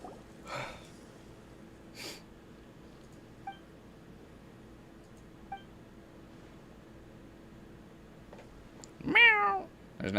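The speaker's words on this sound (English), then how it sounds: "There's not even like cat sound effects. Oh, there is." Cat meows from the video game Persona 5: The Phantom X sound in short, isolated bursts over a quiet background, with one louder, longer meow near the end.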